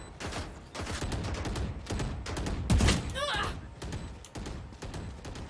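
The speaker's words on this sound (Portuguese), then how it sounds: "O cara dá dois tiros e recarrega" Gunfire from a Valorant match, several quick bursts of shots with a reload, heard under Portuguese player talk.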